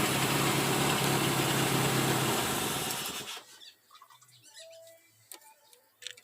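A Chevette engine fitted with a motorcycle carburetor idles loudly and steadily up close for about three seconds, then cuts off abruptly, leaving quiet background with a few faint clicks and small knocks.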